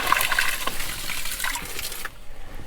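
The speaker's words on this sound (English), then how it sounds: "That's why the bucket is running over." Well water gushing steadily over the rim of a bucket at an off-grid tiny house, a loud, close, continuous splashing rush that cuts off abruptly near the end, leaving faint trickling.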